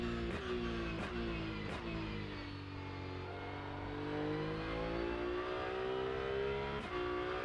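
A BMW race car in the Rennsport racing simulator game, its engine revving hard with a rising, buzzy harmonic drone and a few brief shift clicks, loud and sustained throughout.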